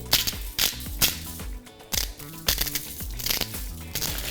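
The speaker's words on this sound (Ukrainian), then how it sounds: "Зараз ми будемо її складати е, в алюмінієвий папір" Aluminium foil being crinkled and folded up close around potatoes for baking, sharp crackling bursts repeating every half second or so, with no talking.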